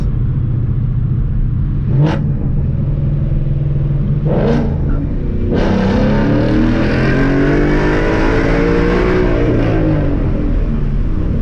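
A car engine revs and accelerates loudly through a tunnel, with a couple of sharp gear-shift bursts before a long rising roar that echoes.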